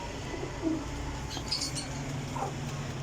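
Pigeons coo softly in a loft kept for champion Kasuri racing birds, a few low murmuring calls rising over steady background noise, with brief chirps and a faint clink scattered through.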